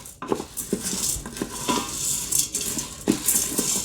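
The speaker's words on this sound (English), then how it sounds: "I'm going to add the tapioca or sabudana. Just a quick stir." Tapioca pearls (sabudana) stirred in the inner pot of an Instant Pot, a quick series of close metallic scrapes and clinks from the spoon against the pot over a soft hiss.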